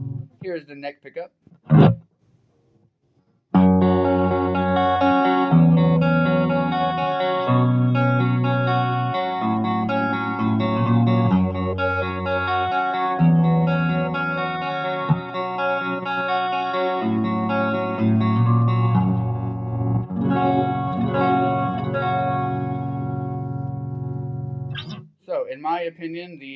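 Strummed chords and picked notes come from a Firefly FFJA electric guitar on its neck pickup, warm and sustained with a chorused edge, loud and continuous after a few brief tuning plucks, with talking at the start and end.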